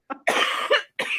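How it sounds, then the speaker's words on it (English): A person coughs three times in quick succession, the middle cough longest and harshest, close and loud. "Sorry, I've got a cough."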